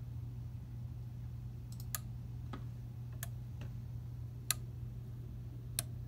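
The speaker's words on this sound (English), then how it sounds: "And now you can see the output right there clicking on and off. See the light clicking on and off. And you can hear the click." A relay output contact clicks on and off, giving sharp, faint ticks at irregular intervals over a steady low electrical hum.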